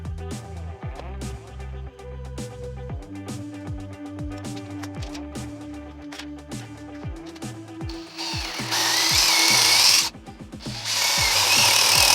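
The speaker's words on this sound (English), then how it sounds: "And then I'm going to drill out the background for the swiveling mechanism." A power drill whines and bores a hole into wood for a camera arm's swivel mechanism with a steady motor hum, rising to a loud, rough grinding roar near the end.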